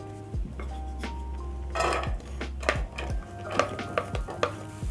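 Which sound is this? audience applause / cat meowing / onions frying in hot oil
onions frying in hot oil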